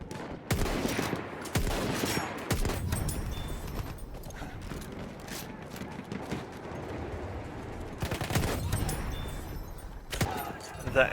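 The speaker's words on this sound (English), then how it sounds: "The M1903, besides the 98, also a long distance beast." M1903 sniper rifle shots in Battlefield 1, several sharp gunshots at irregular intervals with bolt and mechanism clicks between them, amid game ambience, with a voice talking over it.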